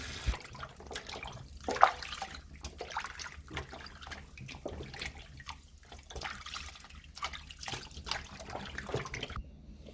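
Vegetables being rinsed under running water in a kitchen for Jamaican-style steamed snapper, with intermittent splashing, trickling and dripping, close by and uneven in loudness, with a few sharper knocks.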